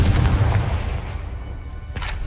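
A Confringo explosive spell is cast in the video game Hogwarts Legacy, giving a loud, booming blast at the start that decays into a rumbling tail, followed by a second sharp burst near the end.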